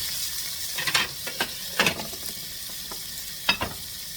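Tomatoes sautéing in a pan for a village-style fish curry, a steady sizzle broken by several scraping, clattering stir strokes of a spatula against the pan.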